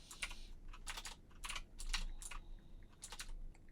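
Steady clacking on a computer keyboard, bursts of keystrokes in quick runs with short pauses, close and fairly quiet, no voices.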